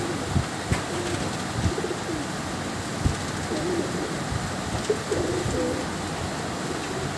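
Pigeons kept for sale at a home loft coo in soft, repeated rolling calls over a steady background hum, with a few sharp knocks and flutters scattered through.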